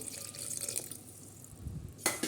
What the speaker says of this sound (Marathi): आता त्याच्यात आपण पाणी टाकणार आहोत शिजण्यासाठी